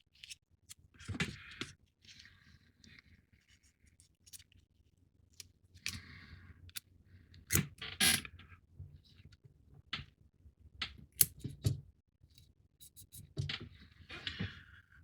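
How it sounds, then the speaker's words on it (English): Sticky tape is pressed and smoothed onto a partwork Eaglemoss Star Trek U.S.S. Enterprise NCC-1701-D model, giving sporadic crisp scratches, crackles and taps between quiet pauses, close and fairly faint. "We're going to put the tape across that section."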